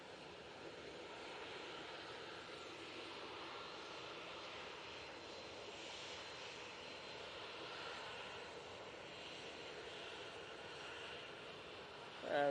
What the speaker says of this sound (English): Got another prop and finals. That's one of the Aer Lingus ones